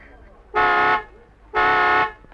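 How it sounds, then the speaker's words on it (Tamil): Two long, loud car horn blasts, each about half a second, evenly spaced and close by, with a faint hum of the idling vehicle between them. "ஹார்ன் அடிச்சு அவளை கூப்பிடுங்களேன் ப்ளீஸ்."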